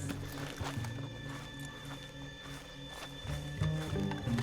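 Horses in the Red Dead Redemption 2 video game clip-clop along at a walk with a few neighs and snorts, fairly close, over a soft game ambience, with no talking.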